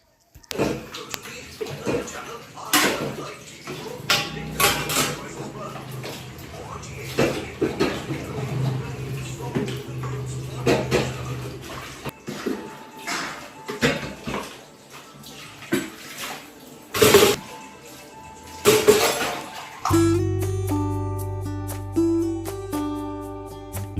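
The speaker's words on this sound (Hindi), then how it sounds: "तो फाइनली बर्तन वॉश हो गए थे, कुकटॉप वगैरह सब क्लीन हो गया था" Dishes being washed and a kitchen cooktop scrubbed clean with running water, splashing and clattering unevenly in bursts, with steady background music entering near the end.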